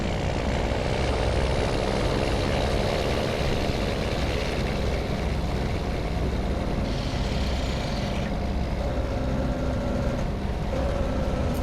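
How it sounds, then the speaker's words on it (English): A semi-truck's Jake brake rattling from another rig on a rainy highway, heard from inside a truck cab as a steady broadband engine roar and rumble, with no clear break from the cab noise, all over the sound of rain. "I can actually hear the Jake brake of the other truck."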